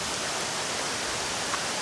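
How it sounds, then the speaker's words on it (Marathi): A waterfall near the Kondane Caves in Karjat pours steadily, a dense, continuous roar of rushing water heard close and loud with no voices over it. "हा जो मस्त धबधबा वाहतो ना"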